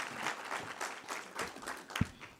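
Audience applause at a research symposium welcomes a speaker to the podium, moderate clapping in uneven bursts with one sharper clap near the end, fairly quiet and without speech.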